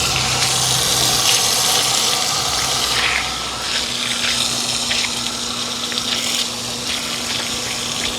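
Water gushes steadily from an outdoor beach tap or shower for rinsing sand off feet on a morning beach walk, a loud continuous rushing stream close by with a low pump-like hum, briefly easing partway through, with no speech.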